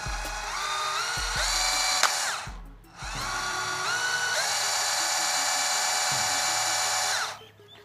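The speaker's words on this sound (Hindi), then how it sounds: "तो चलो अब यहाँ पे मैं ड्रिल का जो ऐसे ही ये ट्रिगर दबाऊँगा" An electric drill is triggered twice: the motor whines up to speed, cuts out briefly, then spins up again and runs steadily before winding down. It sounds close and alone.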